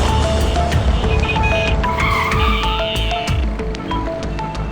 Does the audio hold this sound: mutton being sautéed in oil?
no